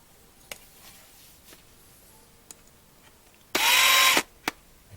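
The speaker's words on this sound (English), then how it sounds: "I'm gonna have to drill those out." A DeWalt 36 volt drill bores out the rivets of a NASCAR 1/64 scale diecast car in one loud, brief burst of whirring, with scattered small clicks and taps of handling before and after.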